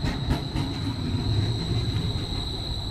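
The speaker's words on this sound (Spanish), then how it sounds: "Este es el tranvía de Portland." A Portland streetcar passes along a city street, a steady rumble of wheels on rails with a faint high squeal and a few light rhythmic clacks, close and continuous.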